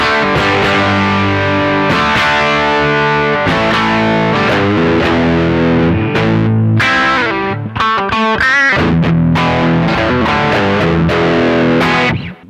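Telecaster electric guitar through a green Nobels ODR overdrive pedal with the gain cranked, playing loud distorted chords and riffs continuously with no talking.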